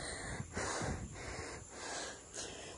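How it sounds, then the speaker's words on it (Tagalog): Heavy panting after climbing about a hundred steps outdoors, rhythmic close breaths rising and falling over a few seconds. "Ayan, hingal na ako."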